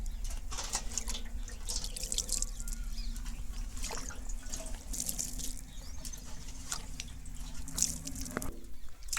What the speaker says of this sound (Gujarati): ધીમા હાથે પાણી અત્યારે છંટકાવ કરી રહ્યા છીએ